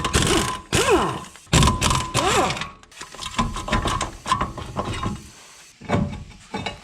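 Two 17mm caliper bracket bolts being removed from the front brake of a 2003–2007 Honda Accord, with several loud ratcheting and clunking bursts separated by short pauses, close by and heard alone.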